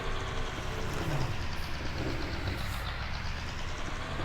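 A John Deere tractor engine running in Farming Simulator 19, a steady low idling drone that holds evenly throughout with no talk.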